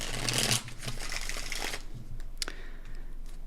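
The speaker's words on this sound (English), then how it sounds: "Let's shuffle up again, please." Brisk riffling and rustling of tarot cards being shuffled close by, a dense burst at first and then softer repeated flicks.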